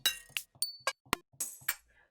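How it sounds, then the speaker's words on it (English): Short percussive hits from an Ableton drum rack loaded with assorted percussion samples, a sequence of about eight crisp clinks and clicks in irregular rhythm, heard alone and fairly close. "I have a drum rack that is filled with just a bunch of different percussive sounds"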